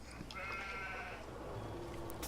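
A sheep in the Farming Simulator 17 video game gives a single wavering bleat, faint and brief against a low background hum.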